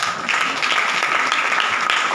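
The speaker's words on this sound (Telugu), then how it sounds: "చప్పట్లు కొట్టండి" A church congregation at a watch night service claps together in a dense, continuous burst of applause, fairly close and steady throughout.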